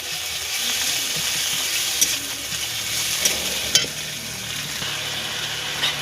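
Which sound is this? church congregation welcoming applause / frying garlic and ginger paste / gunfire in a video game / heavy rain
frying garlic and ginger paste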